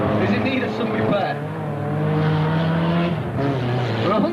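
Demolition derby cars at a Citizens Band Cruisers Club derby day race around the track, engines droning steadily with a rising and falling pitch, heard under an announcer's continuous commentary.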